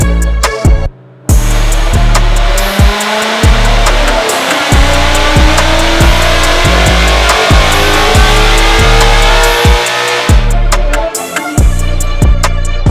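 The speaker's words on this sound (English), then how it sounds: "So let's get this car up on the dyno and see what it does." A supercharged Ford Mustang GT with a Roush kit and VMP power package runs hard on a dyno, a loud sustained engine roar with a rising pitch, a brief pause near the start, and repeated sharp pulses throughout.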